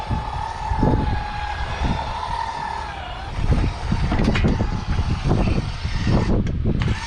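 Wind gusts roar outdoors beside a Wildwood Heritage Glen 312QBUD travel trailer with its awning extended, rising and falling in uneven bursts, and a low engine-like drone sits underneath.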